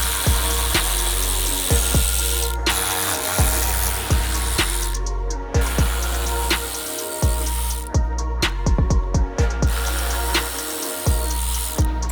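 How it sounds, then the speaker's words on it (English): A power drill runs under a Corvette C7 Z06 once the undercar panel is off, driving bits into place. The whirring comes in close repeated bursts with short gaps and ratchety clicks between, and nobody speaks. "now we can get the bits under here drilled in"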